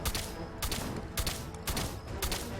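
Rapid gunfire from a bugged weapon in the video game Fallout 76 rattles in dense bursts with sharp repeated shots, loud and continuous throughout with no talking.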